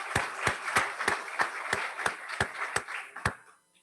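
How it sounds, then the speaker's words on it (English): Sparse, distinct claps at a Las Vegas Rotary Club weekly meeting, a handful of people clapping in a loose, fairly even rhythm that fades out after a few seconds. "could we have a big round of applause for all the visiting Rotarians and guests?"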